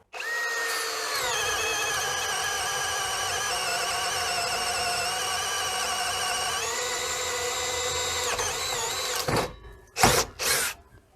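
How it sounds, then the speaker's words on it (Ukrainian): Prostormer compact cordless drill on first speed boring a 32 mm bit through a dry 50 mm timber beam, a loud steady whine under strain that shifts pitch and ends in short sharp bursts as the bit breaks through. "Ну і подуркуємо 32-м злим сверлом на першій швидкості."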